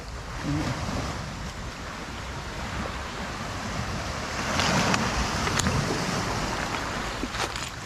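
Water waves surging and washing in a steady rush with wind buffeting the microphone, the surf swelling louder toward the end.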